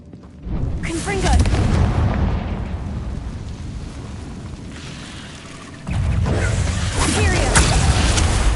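Confringo blasting spell explosions in Hogwarts Legacy, two loud booming blasts, the first rumbling off over several seconds before a second heavy burst hits and sustains to the end.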